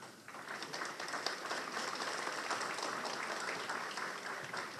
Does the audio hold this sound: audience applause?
yes